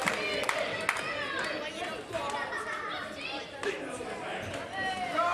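Crowd at a wrestling event with Ricky Knight and Steve Quintain, a steady roar of chatter, shouts and scattered claps filling the whole stretch at moderate level, with brief louder bursts.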